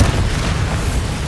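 A Bombarda blasting spell goes off in Hogwarts Legacy: a deep, rumbling explosion with heavy low-end weight that stays dense and steady for just over a second, with no voices.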